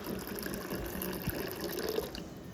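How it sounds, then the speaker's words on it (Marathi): Water is poured into a copper tambya pot being prepared for an aarti thali, a soft, steady, fairly close filling sound with small splashes. "त्यामध्ये चांगलं असं देवाचं पाणी भरून घ्यायचं त्या तांब्यामध्ये"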